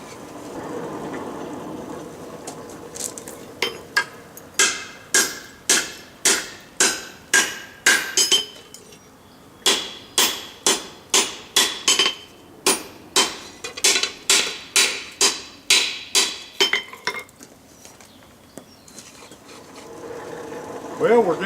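A hammer strikes hot metal on an anvil to forge a bend, sharp ringing blows in quick rhythmic bursts with short pauses between runs, loud and close, and a voice speaking near the start and end.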